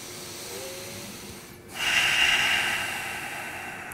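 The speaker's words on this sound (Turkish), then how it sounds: "Derin bir nefes al." A single deep breath taken during a relaxing yoga session: a soft inhale, a brief pause, then a long, close, airy exhale that slowly fades.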